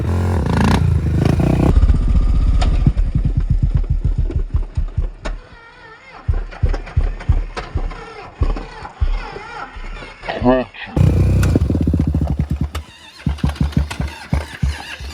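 A Honda 400EX quad's engine cranks and runs up close, loud and uneven, sputtering and surging in bursts with people talking nearby.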